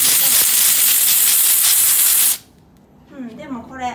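An Iris Ohyama steam cleaner, used to clean a home entryway, blasts a loud, steady hiss of hot steam that cuts off abruptly, followed by a faint voice.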